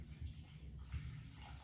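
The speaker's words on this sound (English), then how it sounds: "But I'm gonna do 6 cups of water." Water runs steadily into a pot for minestrone soup, a soft, faint splashing pour that lasts the whole moment without any talking.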